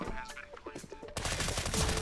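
Rapid automatic gunfire from a weapon in Counter-Strike: Global Offensive on the Nuke map bursts in loudly halfway through, following a stretch of game sounds and voice chatter.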